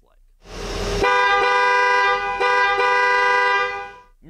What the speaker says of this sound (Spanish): Así suena el claxon de este coche.